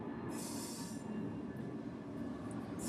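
A train passes outside and is heard through an open window: a steady distant rumble of rail cars with high wheel squeals rising and fading. There is no speech over it.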